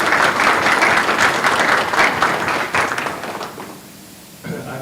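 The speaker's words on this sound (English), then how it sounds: "Can we please give a round of applause to everyone who has supported our students on their" At a National Technical Honor Society ceremony, an audience breaks into full applause that stays strong for a few seconds, then tapers off into scattered claps and quiet.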